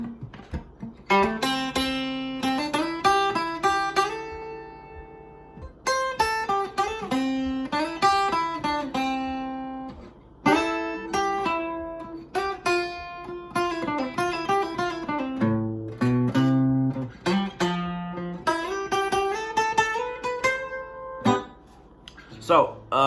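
Guitar solo from a song, played in a lesson setting as melodic lead lines with hammer-ons starting low on the neck, steady and moderately loud over about twenty seconds, with no talking.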